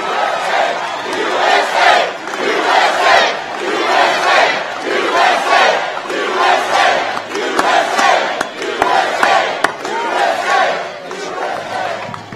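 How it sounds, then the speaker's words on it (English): A large crowd at a Donald Trump rally in Panama City Beach chants and cheers in loud, rhythmic surges roughly every second, filling the whole stretch without a break. "Wow, what a crowd."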